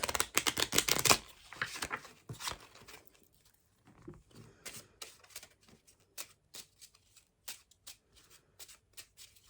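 A deck of cards riffled loudly up close, a dense burst, followed by scattered sharp card snaps and shuffling taps at irregular intervals.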